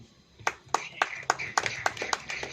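Church congregation clapping on cue during a sermon, a series of about ten sharp, fairly evenly spaced claps that grow slightly quicker, close and distinct over a low background hum.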